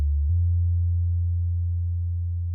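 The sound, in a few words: modular synthesizer VCO oscillator tone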